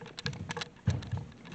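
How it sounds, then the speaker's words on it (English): Rain patters irregularly on a surface during a walk, with soft scattered taps and a few heavier low thuds in a short, fairly quiet burst. "It's raining."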